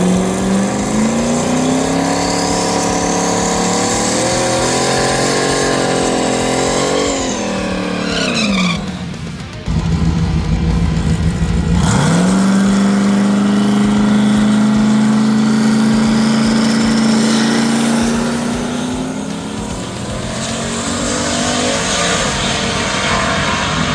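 Drag race car burning E85 making a pass: loud sustained engine roar rising in pitch through the gears, a brief sharp cut near the middle, then another long high-revving pull that eases off at the end.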